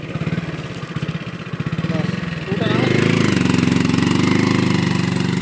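A motorbike carrying coconuts up a hill toward the Chandi Devi temple in Haridwar, its engine putting steadily and growing louder and closer midway, with people talking nearby.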